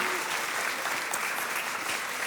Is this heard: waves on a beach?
no